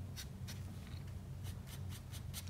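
A marker rubs in short strokes while yellow is coloured onto small strips of a drawing, giving about eight brief scratchy swipes up close over a steady low hum, no talking.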